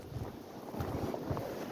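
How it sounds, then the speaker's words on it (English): Strong wind in a blizzard during a deadly Christmas-weekend storm in Buffalo, a rough, blustery roar that buffets the microphone with uneven gusts, continuous and loud. "Oh, they're getting extra windy again."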